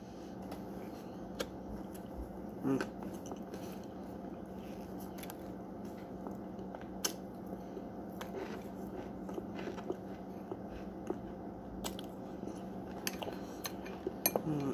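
A spoon clinks quietly and sporadically against a dish while someone tastes corn starch mixed with Rumford, with soft biting and chewing sounds between the faint metallic taps.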